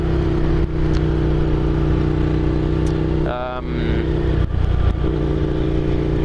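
Steady engine drone of a 2016 Ducati Scrambler Classic motorcycle while riding, holding a constant hum with a short gear-change dip midway, under a rider talking.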